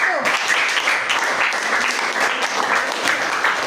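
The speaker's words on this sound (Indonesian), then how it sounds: "Oke, tepuk tangan buat kelompok 1." Steady applause from a class of students for the first group after their presentation, dense and sustained throughout at close range, with no talk.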